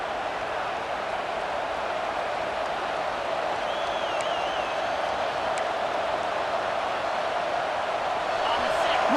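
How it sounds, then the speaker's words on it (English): Stadium crowd noise from EA Sports College Football 26 during South Carolina vs LSU, a constant broad roar of a packed stadium held at a steady level, with faint whistle-like tones above it. "Listen to the crowd energy here in the early going."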